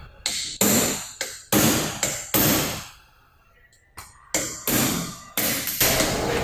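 Iron hammer blows on a grabber pin while a manual transmission is torn down, a series of sharp, loud metallic strikes in irregular rhythm, several quick hits then a short pause before more follow.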